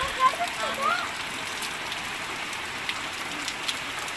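Heavy rain pours steadily in a broad continuous hiss, with a few brief faint tones near the start.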